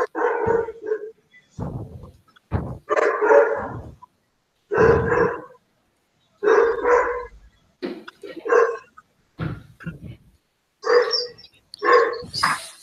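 A neighbor's dog barks repeatedly in loud, close bursts, a dozen or so sharp barks spaced irregularly with short pauses between them.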